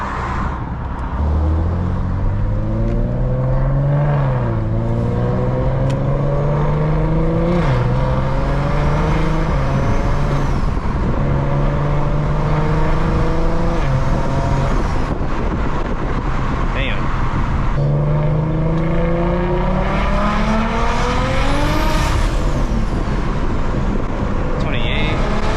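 A BMW with a Gen 1 B58 engine and big single turbo pulls hard through rising engine sweeps, with a shift dip and a second long climb, loud and close with wind and road noise and some voices mixed in.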